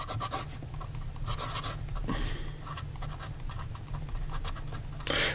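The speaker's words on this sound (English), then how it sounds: "here we go with the writing sample for the Visconti" A Visconti Millionaire fountain pen with a medium nib, filled with green ink, scratching across paper in short strokes and pauses, close and quiet against a faint steady background hum.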